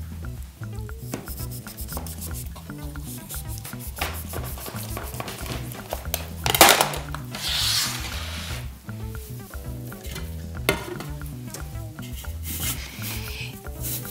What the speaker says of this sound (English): you take your dullest knife, and you just cut where those score marks are